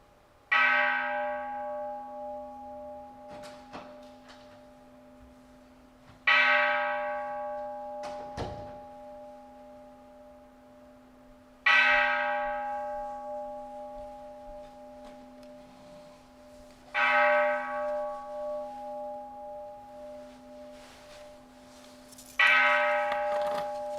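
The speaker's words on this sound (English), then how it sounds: "We will start with the ringing of our temple bell." A temple bell rings five times at steady, widely spaced intervals, each stroke bright and resonant with a long, slowly decaying hum that carries into the next, in a quiet hall with no talking.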